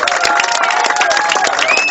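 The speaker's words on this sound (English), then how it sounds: "a huge round of applause" A crowd at a speedway team riders' presentation claps and cheers for the Rockets captain, a dense burst of applause with scattered whistles, loud and close throughout the short moment.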